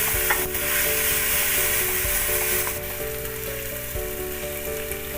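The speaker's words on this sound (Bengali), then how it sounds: "এবার আমি এটা একটু কষে নিচ্ছি ঘিটের সাথে টক দইটা কষে নিচ্ছি" Sour yogurt sautéing in ghee in a pan with beetroot, a steady dense sizzle running throughout, with occasional spoon scrapes against the pan, close and fairly loud.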